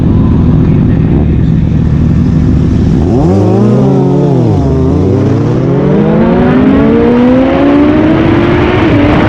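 A Honda CBR 1000RR SP sportbike accelerates hard, its engine note rising through the revs, dropping briefly at a shift, then climbing steadily again, loud and close against heavy wind rush.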